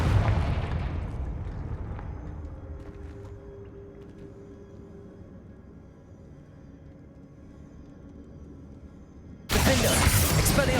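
A Confringo blasting spell from Hogwarts Legacy detonates in a loud, booming explosion that rumbles away into a long fading tail. A second sharp blast erupts near the end.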